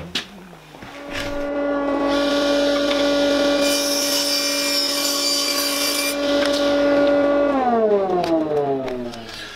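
A bandsaw trims a wooden board to width, a loud steady tonal hum and cutting rasp that holds for several seconds and then winds down in pitch as the blade slows.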